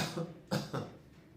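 A voice imitates a cough, giving a few short, breathy coughing bursts in quick succession.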